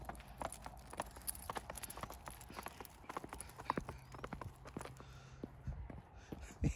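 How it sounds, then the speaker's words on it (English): Quick, hard taps click on a hard surface in an uneven trotting rhythm, like hooves clip-clopping, fairly quiet and close: a Japanese Chin dog walking in rain boots. "Cooper, you sound like a horse galloping, buddy."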